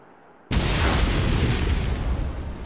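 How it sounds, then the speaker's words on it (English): A sudden loud explosion in the Xenoblade Chronicles 2 video game at the World Tree bursts in after a quiet moment, then rumbles and slowly decays, filling the whole range with dense booming noise. "An explosion?"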